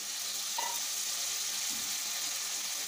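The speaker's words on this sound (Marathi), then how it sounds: "आता यात मी मटणाचे पीस घालून घेते." Mutton pieces for mutton curry sizzle and fry in a pan, a constant close hiss with a soft stir or clink partway through, no talking.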